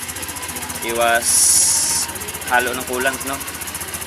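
An engine idles steadily to warm up during a coolant and oil change, a continuous low rumble with a brief hiss in the middle, while someone talks over it.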